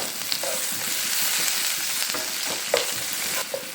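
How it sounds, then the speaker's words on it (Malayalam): Brinjal stirred with garlic and curry leaves in a hot pan gives a steady sizzle broken by several sharp scraping strokes of a spoon, close and fairly loud with no voices. "ഒന്ന് മിക്സ് ചെയ്ത് കൊടുക്കാം."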